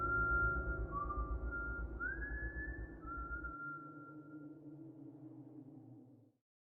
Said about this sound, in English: don't whistle at night.